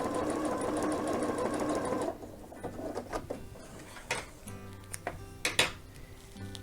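A sewing machine runs test seams through fabric for a single fold welt pocket, whirring steadily and close for about two seconds before stopping, then a string of scattered clicks and light clatter follows.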